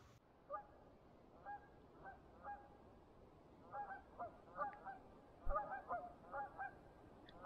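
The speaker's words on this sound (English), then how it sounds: "There's a bunch of geese to my right and a bunch of geese to my left." A flock of wild geese honking repeatedly in the distance on both sides, irregular overlapping calls over a quiet outdoor background while trout fishing.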